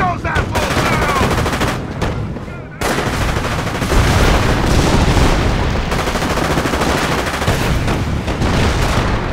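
Heavy, relentless enemy gunfire and artillery barrage in the strategy game Company of Heroes, a loud wall of overlapping machine-gun bursts and booming blasts filling the whole stretch almost without pause.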